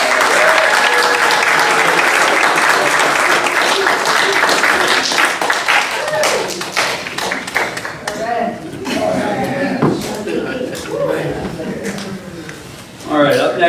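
Audience applause at a mayor and council regular session, loud and sustained clapping filling the room, thinning into scattered claps and voices as it fades.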